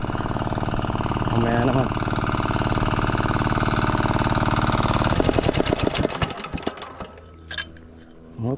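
Small farm engine running at a fast, rattling idle, loud and close, then sputtering and knocking as it winds down and stops; someone speaks briefly over it.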